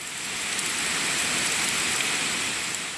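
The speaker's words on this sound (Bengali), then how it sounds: "দেশের বিভিন্ন স্থানে নেমেছে প্রবল বেগে বৃষ্টি বইছে ঝোড়ো হাওয়া" Heavy rain driven by gusty wind pours down in a dense, steady hiss that holds throughout, with no voices.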